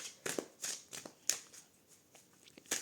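Tarot cards shuffled by hand in a quiet room, giving a series of soft, close riffling and sliding bursts with brief pauses between them, and no talking.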